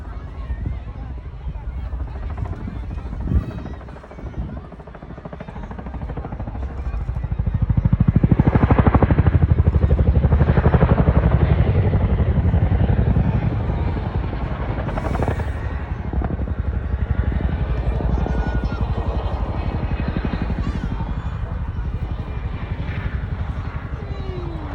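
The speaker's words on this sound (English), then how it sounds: "I bet this Chinook's in between the main acts entertainment." A Chinook helicopter flies at an RAF Cosford air show, its loud deep rotor thudding and engine roar swelling and holding steady nearby, with wind buffeting and people talking over it.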